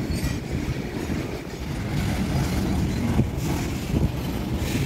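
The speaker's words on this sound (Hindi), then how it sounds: "बहुत ज़्यादा लोड खींचने की क्षमता रखती है एक मालगाड़ी, मतलब मालगाड़ी का इंजन" A freight train locomotive rolls past at a nearly empty railway station, giving a steady, loud mechanical rumble with wind buffeting the microphone throughout.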